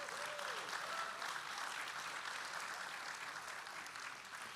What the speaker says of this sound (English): Huge round of applause for our spouses.